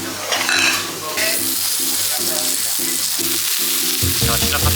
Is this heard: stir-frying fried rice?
yes